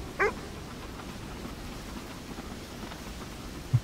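Dogs running ahead let out one short, sharp bark early on and a faint yelp at the very end, both brief against a steady low outdoor rumble.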